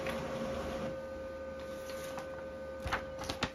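A desktop printer runs a shipping return label for a parcel, a steady mechanical whir with a faint tonal hum and a few clicks and clatters near the end, close and fairly quiet with no talk.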